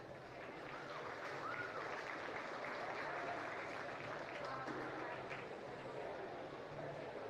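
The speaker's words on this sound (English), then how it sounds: "Give him a nice round of applause." A crowd in a county fair livestock arena applauds a winning calf in a steady, continuous wash of clapping, moderately distant, lasting several seconds without a break.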